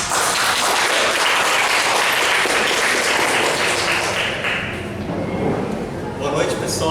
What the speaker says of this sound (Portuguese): Um aplauso, Márcio.